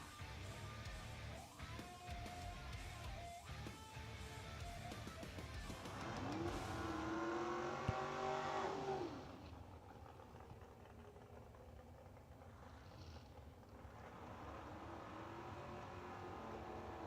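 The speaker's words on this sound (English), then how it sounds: "Couple of door cars squaring up first." Door cars launching in a drag race at a million-dollar event, engines roaring from a staged rumble into a loud rising rev that peaks around the launch, then fading to a distant drone as the cars pull away down the strip.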